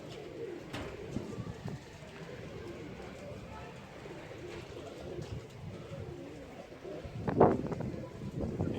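A flock of pigeons coos softly at close range, with scattered wingbeats and shuffling as the birds land, and a brief sharper call near the end.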